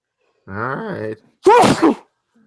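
A single sharp, bursting sneeze indoors during a live reaction session at Star Wars Celebration, preceded by a drawn-out voiced groan-like sound, then quiet.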